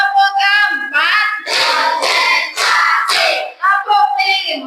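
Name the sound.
class clapping along to a counted clapping chant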